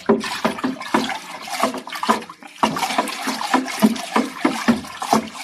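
Water sloshes and swirls steadily in a vessel, with rhythmic splashing pulses as dye for a fishing net is stirred vigorously through it.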